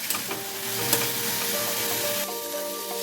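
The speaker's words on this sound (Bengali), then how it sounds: "হালকা করে ভেজে নেব।" Vegetables fry lightly in a pan with a steady close sizzle and brief stirring scrapes, a continuous bright hiss holding even throughout.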